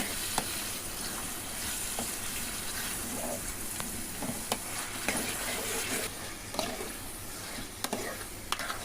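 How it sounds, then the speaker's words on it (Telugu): Chicken pieces fry with ginger in a pan for chicken curry, a steady sizzle under scattered spatula scrapes and taps as the mix is stirred. "అల్లం బాగా వేగాక అందులో చికెన్ వేసుకోండి బాగా కలపాలి"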